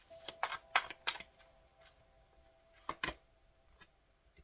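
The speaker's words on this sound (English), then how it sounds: "Let me shuffle." Playing cards are shuffled in a few quick, crisp bursts of flicking and snapping, close and fairly quiet, with a short pause before two more riffles.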